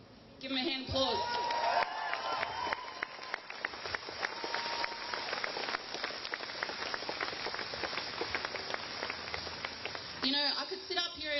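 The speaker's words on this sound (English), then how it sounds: "Give them a hand of applause." Rally crowd at an Invasion Day protest in Sydney applauds, a dense, steady wash of clapping lasting about ten seconds, moderately loud and heard from within the crowd, with faint voices mixed in.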